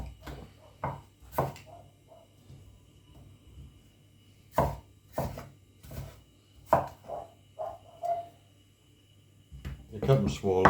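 A big kitchen knife chops food on a board in a series of sharp, irregular thuds, some close together and others spaced apart, with quieter stretches in between.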